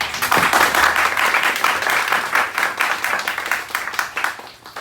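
A crowd applauds warmly, dense clapping that swells and then slowly thins out over several seconds.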